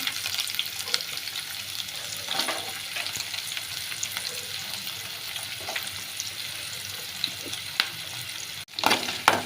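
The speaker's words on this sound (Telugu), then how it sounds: "ఇప్పుడు ఉల్లిగడ్డలు ఫ్రై వేసుకున్నామండి" Chopped onion fries with two broken dried red chillies in a pan for a coconut curry, a steady close sizzle with occasional stirring clatter and a louder scrape after a brief cut near the end.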